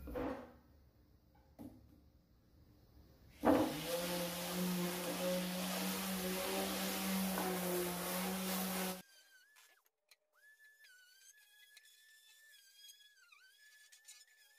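Sanding a scrap piece of wood with a power sander gives a steady, loud whirring grind for about five seconds after a few faint knocks, then it cuts off and leaves only a faint high squeal and light clicks.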